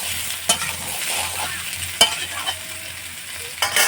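Ridge gourd dropped into hot oil in a pan and stirred, with a steady close sizzle broken by several sharp spatula scrapes and knocks against the pan, no voices.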